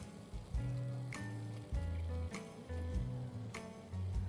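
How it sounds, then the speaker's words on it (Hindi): Peeled boiled potatoes, broken by hand into rough pieces, go into hot tempering in a pan for a halwai-style aloo sabzi. Steady sizzling and frying fills the clip, with a few soft stirring knocks and no talk. "अब इसके अंदर उबले हुए आलू जाएंगे जो मैंने छील के रखे हैं"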